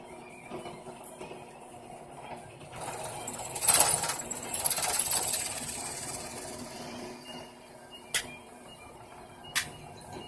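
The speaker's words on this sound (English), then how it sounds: "We drill into the board, we drill into the board." A power drill bores a test hole into a board in a beginner's knife-making workshop. It runs as a few seconds of whirring, grinding noise over background clatter, with sharp clicks afterward.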